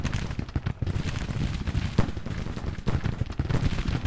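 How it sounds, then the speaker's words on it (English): Massed brigade musket volleys from a Civil War battle in the strategy game Grand Tactician: The Civil War, a dense, continuous crackle of gunfire with sharper reports standing out, loud and sustained without speech. "2nd Brigade, open fire."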